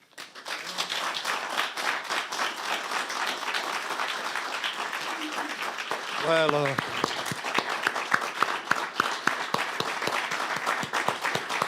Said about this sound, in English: a big applause indeed